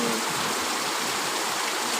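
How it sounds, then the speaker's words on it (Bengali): Heavy rain during a storm outside a house, a dense, steady wash of falling water that fills the whole stretch evenly without pause or voices. "কি ঝড় তোফান শুরু হয়েছে।"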